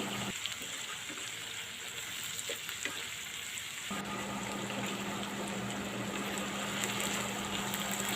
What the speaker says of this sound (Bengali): উল্টে পাল্টে একটু ভালো করে নাড়াচাড়া করে দিচ্ছি আমি এটাকে এখন